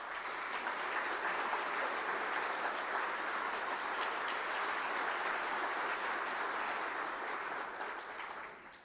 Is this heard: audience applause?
yes